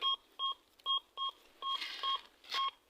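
Metal detector signal beeps in a regular series of about seven short electronic tones, evenly spaced and fairly faint, during a dig at an old farmstead in a forest.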